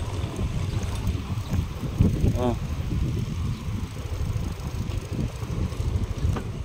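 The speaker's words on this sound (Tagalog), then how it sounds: "Yan, ang lakas ng baha dito mga ka-idol oh" Strong floodwater rushing during Typhoon Nando in Abulug, Cagayan, a loud, continuous roar of churning water mixed with buffeting wind noise on the microphone.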